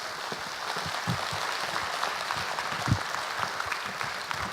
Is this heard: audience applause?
yes